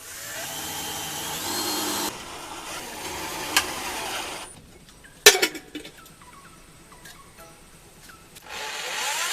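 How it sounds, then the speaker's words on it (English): A power drill drives a screw through a lid into a piece of wood, giving loud, steady whirring bursts at the start, then a sharp clack and a quieter stretch before the whir returns at the end. "I'm going to screw this lid to the piece of wood, then we will drill a hole in the lid."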